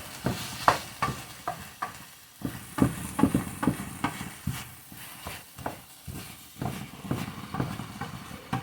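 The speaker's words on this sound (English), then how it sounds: "get that sausage cooking down" Sausage frying in an oiled pan, a steady soft sizzle broken by irregular clicks and scrapes as the pieces are stirred and moved, close and alone.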